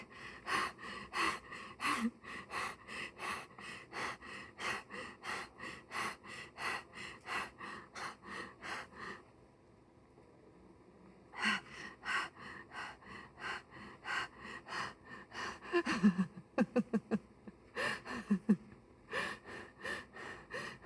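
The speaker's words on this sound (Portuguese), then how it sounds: "os focinhos da jumenta e do boi respiravam num ritmo rápido" Rapid, rhythmic breathing and snorting from a donkey and an ox in a stable at night, steady quick puffs throughout with a short pause midway, close and moderately loud.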